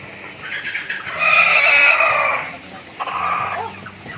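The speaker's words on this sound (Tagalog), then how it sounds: "Yung manok mo doon." Close by in a chicken coop, a rooster lets out a loud, drawn-out crow, then a second shorter call, as chickens cluck softly underneath.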